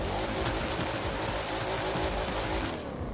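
A car in the racing game The Crew 2 drives through snow, giving a continuous dense roar of engine and churning, scraping tire noise that stays loud and steady throughout.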